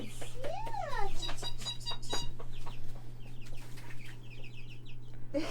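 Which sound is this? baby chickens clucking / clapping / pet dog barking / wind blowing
baby chickens clucking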